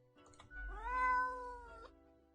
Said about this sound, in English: The cat answers with a meow of uncertainty.